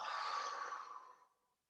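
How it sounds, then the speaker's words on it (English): A single long, deep exhale during a qigong breathing exercise, soft and breathy, close by, fading out smoothly over about a second and a half into silence. "And exhale."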